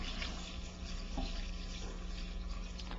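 Water poured into margarine and egg yolk dough in a stand mixer for a loaf pie, a steady continuous splashing pour running at even level throughout with no talk.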